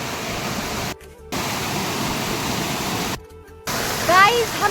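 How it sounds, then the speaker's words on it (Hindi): Water rushes steadily from a roadside drain, a broad close-up roar that cuts out briefly twice, with a short burst of chirping near the end. "यहाँ देखो कितना पानी आ रहा है।"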